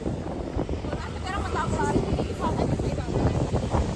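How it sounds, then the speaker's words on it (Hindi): Strong mountain wind near Manali buffets the microphone in a continuous roaring rumble, gusting throughout, with a person speaking under it. "बहुत तेज हवा चल रही है।"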